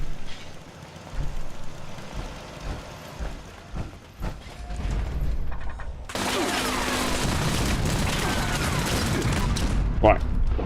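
Video game gunfire in a live-streamed shooter, scattered shots and mechanical clanks that give way to a loud, continuous barrage of rapid fire with a speaking voice over it.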